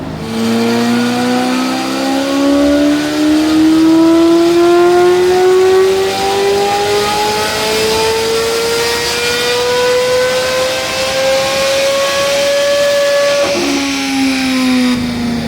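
A Chevrolet Corvette C8 Z06 engine runs on a dyno and climbs steadily in pitch through a long, loud full-throttle pull. It drops off sharply near the end with no voices.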